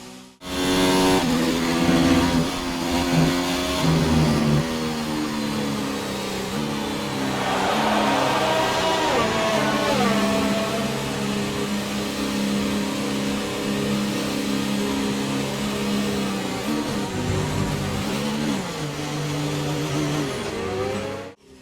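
Formula 1 car engines in the F1 2019 video game at the German Grand Prix scream up through the gears after a virtual safety car restart, with rising and falling pitch sweeps at each shift, loud and continuous for over twenty seconds without speech.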